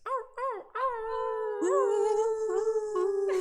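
Several people imitate wolf howls on a Zoom call, voices rising and sliding in long overlapping howls with a few short yips at the start, loud and close.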